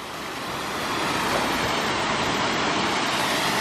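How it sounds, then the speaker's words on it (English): A mountain creek on the Mount Rainier backroads in Washington rushes steadily as dense, loud, continuous broadband water noise, close and unbroken throughout with no voices. "So there's some all-natural Washington Creek action."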